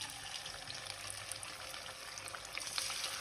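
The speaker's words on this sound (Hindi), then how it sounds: "अब हम अपने टिक्कों को करेंगे फ्राई।" Chicken tikka pieces laid into hot oil in a pan, a steady bright sizzle and crackle holding at an even level throughout, close and unbroken with no talk.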